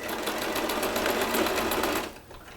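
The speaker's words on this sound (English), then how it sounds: "I'm actually sewing across the lace too because that's going to join the lace." A sewing machine runs steadily for about two seconds, stitching across lace on the cuff of a Christmas stocking, then stops, leaving a quieter tail.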